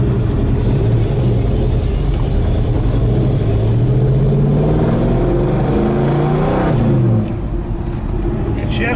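A 1967 Plymouth Barracuda engine revs and climbs in pitch through the gears, dropping as it shifts late on, loud and close from inside the car with someone talking over it throughout.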